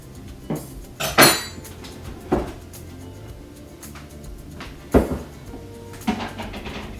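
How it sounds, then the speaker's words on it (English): A spatula scrapes sugar cookie dough from the sides of a bowl, giving several distinct scrapes and knocks against the bowl, spaced irregularly and close by, with no talking. "scrape the sides with like a spatula or something like this"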